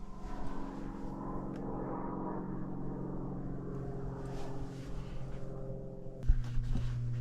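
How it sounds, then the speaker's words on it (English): A small propeller plane drones overhead at a remote cabin in Alaska, a steady low hum that rises slightly as it nears, with a sharp knock close by near the end. "Hear a plane coming."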